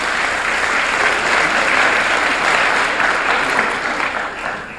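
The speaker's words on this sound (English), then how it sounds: "give our dean and our School of Communications a round of applause" A sustained round of applause from a university lecture audience honoring the dean and School of Communications, loud dense clapping that holds steady before easing off at the end.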